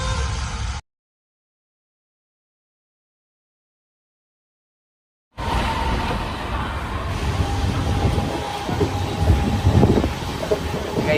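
Brief rumble, then a long silent gap, then the steady rattling hum of a moving passenger train carriage with wind noise and faint clatter.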